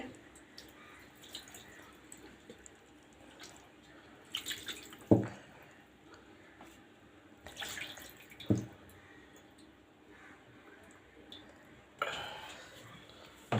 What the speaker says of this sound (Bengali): এবার হাতটা ধুয়ে নিচ্ছে ভালো করে